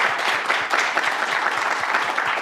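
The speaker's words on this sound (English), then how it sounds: "a round of applause." Audience applause at the close of a research week conference session, steady dense clapping filling the whole moment at moderate volume, no voices over it.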